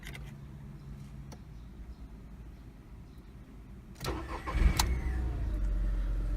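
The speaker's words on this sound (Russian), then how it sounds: "Садимся за руль автомобиля. Ну и, конечно же, заводим." A manual-transmission car, one with a strange whistle coming from its gearbox, is started with the clutch pedal held down: a brief starter crank and then the engine catching and running on at a steady close idle, with no talking.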